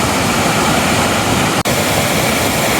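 Grove Creek Falls pours down between moss-covered rocks as a loud, steady broadband roar that fills the whole stretch, with one brief dropout partway through and no voices.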